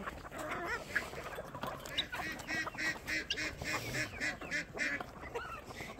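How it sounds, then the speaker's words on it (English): Ducks on a farm quack in a steady, noisy chorus, with dense overlapping calls from a flock close by and faint background sound throughout. "Here, yeah, you ducky ducky dukers. Come get your quack on, please."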